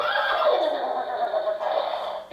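A horse whinny sound effect from a board game plays alone, one loud, wavering neigh lasting about two seconds.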